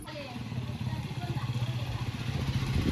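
A motorcycle engine idling nearby with a low, pulsing putter, a voice speaking briefly over it.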